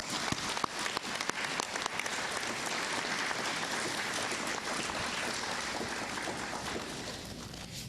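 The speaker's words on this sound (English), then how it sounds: "If you could just give everybody a round of applause." Graduation ceremony audience at an Indian Education event applauding steadily, a dense, even wash of many hands clapping that holds throughout and eases slightly near the end.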